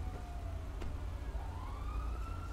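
A police car siren from the game GTA 5 wails faintly in the background, its pitch sweeping slowly over a steady low rumble, with no voices over it.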